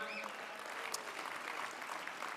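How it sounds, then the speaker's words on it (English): Audience at an annual company meeting applauds in a steady, dense wash of clapping that holds evenly throughout, without any clear voices on top. "let's have a big round of applause"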